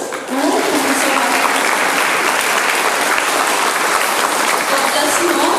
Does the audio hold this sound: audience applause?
yes